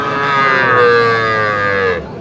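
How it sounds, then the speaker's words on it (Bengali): A red cow at a cattle market lets out one long, loud moo close by, lasting about two seconds before fading, with no talk over it. "বেশ সুন্দর গরু, লাল টকটকে কালার।"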